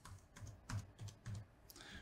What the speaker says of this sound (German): jetzt muss ich mein Passwort eingeben